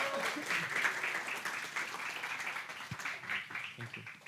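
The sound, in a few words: applause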